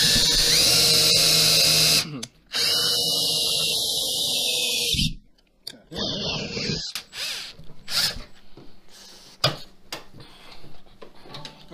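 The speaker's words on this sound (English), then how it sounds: "we're gonna have to use a drill bit" A power drill enlarges a bolt hole on a Ford Mustang for fitting a new spoiler, running loud and steady for about five seconds before breaking into shorter, quieter bursts and mechanical clicks.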